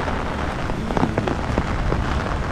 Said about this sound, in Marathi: पाऊस काही जायचं नावच घेत नाही.